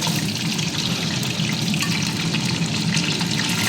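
Chopped onions and green chillies fry in a mix of butter and oil as a prawn biryani base, making a dense, steady, close sizzle that stays loud and unbroken throughout.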